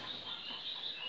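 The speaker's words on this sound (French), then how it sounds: "tout ce qui est mes oiseaux, donc on entend chanter forcément" A dense, steady chorus of many birds singing together from outdoor aviaries beside a greenhouse, where crows are kept, filling the air continuously at moderate loudness.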